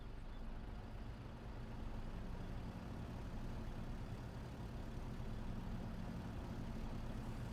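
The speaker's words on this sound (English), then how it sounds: "All these diesel trucks loud out here." Diesel truck engines in Farming Simulator 22 give a steady, low, continuous rumble, like trucks idling nearby, with no break for the whole stretch and no talk over it.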